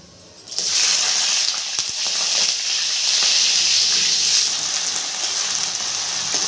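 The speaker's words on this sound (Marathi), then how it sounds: "जिरे छान फुलल्यानंतर त्याच्यामध्ये आपल्याला हे पाण्यातले बटाटे टाकायचे आहेत" Wet potatoes dropped into hot oil with crackling cumin for sabudana khichdi set off a sudden loud sizzle that stays as a strong, steady hiss, alone without speech.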